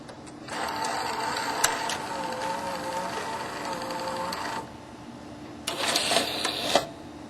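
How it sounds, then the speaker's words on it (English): VCR tape transport whirring and clicking as its single-motor mechanism rewinds the magnetic tape into the cartridge and ejects it, then a second burst of motor and gear noise as a tape loads; close, mechanical, with no talk. "when a tape is ejected, the mechanisms return the magnetic tape back into the cartridge and then eject the cartridge out of the machine"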